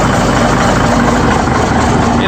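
A Cummins 335 small cam diesel engine idles after a cold start, a loud, steady, close-up rumble with a dense low throb that keeps up without a break.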